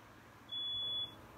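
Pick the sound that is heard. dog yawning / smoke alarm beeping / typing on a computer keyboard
smoke alarm beeping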